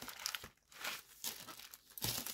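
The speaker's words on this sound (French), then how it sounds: "je vais enlever le plastique" Plastic wrapping crinkles and tears in several close, scratchy bursts with brief pauses between them.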